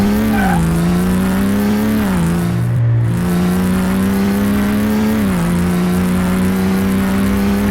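Car driving hard on a track in Car Mechanic Simulator 2018, an all-wheel-drive, non-turbocharged car, with a steady loud engine drone that shifts pitch as it accelerates, alongside tire squeal from drifting.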